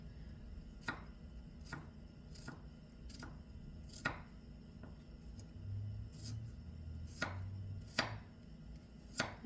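Knife chopping garlic on a cutting board, a sharp tap roughly every second in an uneven series, with a low hum of a passing vehicle in the background.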